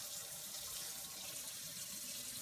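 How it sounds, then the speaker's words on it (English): Lukewarm tap water pours steadily into a bucket in a continuous, even rush, close by and fairly soft, with no talk. "I'll add lukewarm water."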